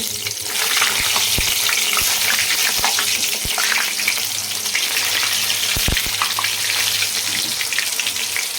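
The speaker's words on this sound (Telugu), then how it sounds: "సో ఈ విధంగా కట్ చేసుకుని సో ఫస్ట్ ఆయిల్లో డీప్ ఫ్రై చేసుకోవాలి ఫస్ట్." Eggplant slices deep fry in oil for vankaya bajji, producing a loud, dense, steady bubbling sizzle close by, with a few sharp clicks of a utensil against the pan and no voices.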